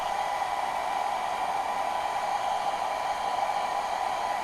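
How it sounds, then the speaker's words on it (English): A heavy blow dryer runs continuously, close and loud, a steady whooshing hiss with a strong motor whine that holds even and unbroken throughout, with no talking. "It's a heavier blow dryer, I think."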